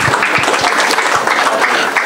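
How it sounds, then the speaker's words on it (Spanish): Audience applause at a presentation of an ecological-balance and environmental-protection bill fills the space as a dense, steady wash of clapping, loud and continuous throughout, with no voices over it. "Un aplauso, por favor."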